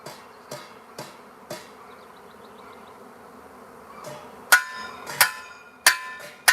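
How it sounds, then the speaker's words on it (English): A honeybee swarm hovering around a tree gives a steady faint buzz, broken by a few sharp knocks and clanks as someone works to bring the bees down; no talking. "I'm trying to get the bees down."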